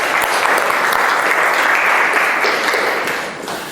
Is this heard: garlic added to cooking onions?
no